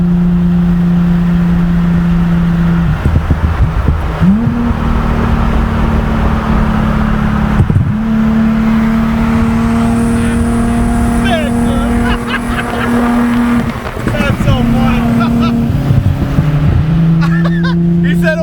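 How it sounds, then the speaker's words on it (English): Turbocharged Subaru engine with a flame map tune, revving hard through repeated climbing pulls and drops, loud and close, with pops and crackles between revs and voices talking over it. "You're checking out our flame map, so hit it."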